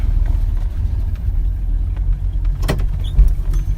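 A Plymouth Cuda Trans-Am muscle car engine rumbles with a low, burbling, gurgling exhaust while driving, steady and close, with a brief creak partway through.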